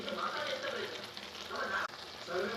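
Okra and potato frying together in a pan, a steady sizzle with soft stirring scrapes, a brief dip midway, and no speech over it.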